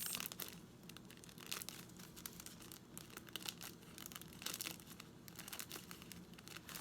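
Scissors snip halfway into a folded paper square for a handmade mini mitten, giving a steady run of close crinkly cuts and paper rustle with no voices.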